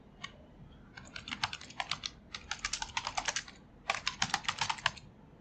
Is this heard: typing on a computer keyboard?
yes